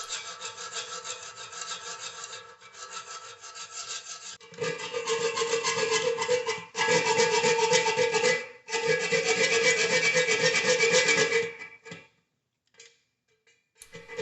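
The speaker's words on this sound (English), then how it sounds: "Repeat the same procedure on the left side to cut down the extra bolt." Sawing through the excess length of a toilet bolt on a Glacier Bay toilet, rhythmic back-and-forth rasping strokes close up in several long bursts with short pauses, ending in a few light taps.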